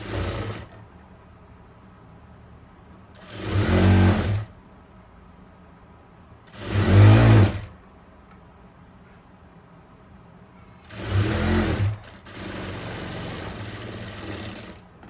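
A sewing machine stitches a frock nighty in four separate bursts of rapid, buzzing clatter, each a second or two long, separated by quiet pauses, with the last burst trailing into a lower mechanical hum.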